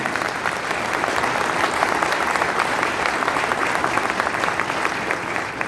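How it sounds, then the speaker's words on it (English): Loud, dense audience applause at a direct selling company event, many hands clapping steadily and continuously from start to finish with no voices. "So big round of applause to all of you."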